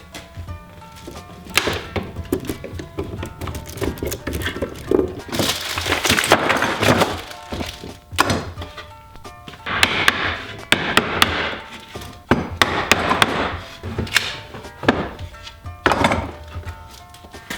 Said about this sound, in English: I'm gonna go ahead and take the clamps off and see what we've been left with